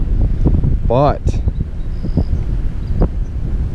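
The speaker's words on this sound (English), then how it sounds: "it's getting crazy windy" Strong wind on a lake buffets the microphone in a steady low rumble through most of the clip, while people talk close by from a kayak on a spillway lake.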